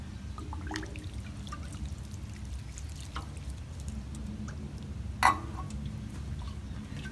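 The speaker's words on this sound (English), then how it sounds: "go with our watering can now and add a little more water." Watering can pouring a thin trickle of water into a potted plumeria, soft continuous splashing and dribbling with a single brief louder clink near the end.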